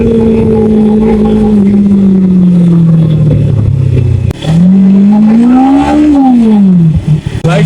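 Suzuki Inazuma 250cc motorcycle accelerating hard from standstill toward 100, engine note climbing through the gears with a brief dip at a shift, loud and close, no talk.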